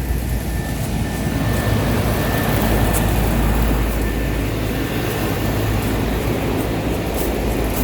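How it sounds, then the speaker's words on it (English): A rooftop HVAC unit's blower runs on a no-cooling service call, giving a loud, steady broadband roar with a low hum underneath, heard up close and continuous, with no talking. "Blower's running on that one."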